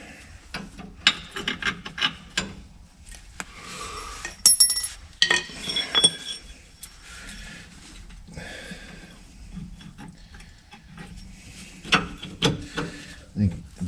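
Ratchet and wrench work on lubricated airbag bracket bolts of a 2022 Ford F350 being fitted with a 3.5 inch lift: irregular rubbing, scraping and metallic clicks at close range, with occasional faint talk.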